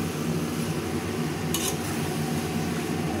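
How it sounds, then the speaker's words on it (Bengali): Loitta dried fish bhuna cooking in a pan, with a steady dense sizzle and faint scraping of stirring running throughout, close and even, with no talk. "নাড়া দিয়ে একটু ঢাকনা দিয়ে বন্ধ করে দেবো।"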